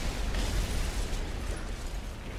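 Rocket strike from a P-47 fighter plane in a Normandy World War II battle game, a dense, rumbling blast with a sustained roar of debris and low boom filling the whole moment, no talking.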